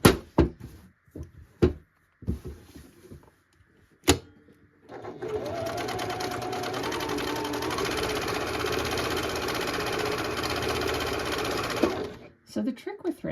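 Janome HD9 sewing machine running at a steady fast clip while free motion quilting, a loud even mechanical whir lasting several seconds, preceded by a few light clicks and knocks.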